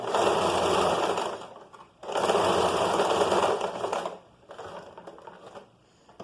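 A sewing machine stitches a circular seam in fabric, running in two long steady bursts of loud, rapid whirring with a short pause between, then a softer, slower run, close up and without talk.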